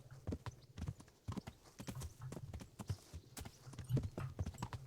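Horse hooves clip-clop in a steady, uneven trot through the Kingdom Come Deliverance game world, close and fairly loud, with occasional louder stamps as the horse struggles to jump, no talk over it.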